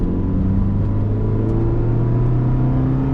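Close, steady drone of a Suzuki Swift car engine, making a sound not there from the factory, its pitch rising slightly as it revs, with a low rumbling hum throughout.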